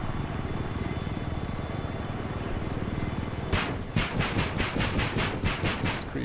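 A helicopter in the game Battlefield 4 drones steadily, then loud rhythmic rotor thumps take over, pulsing close and heavy with no talking.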